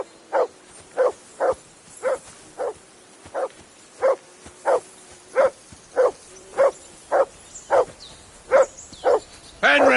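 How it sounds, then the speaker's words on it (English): A dog in the video game Kingdom Come: Deliverance 2 barks about a dozen times in a steady, evenly spaced rhythm, each bark loud and clear over a low background hum. "That barking was a pain in the ass."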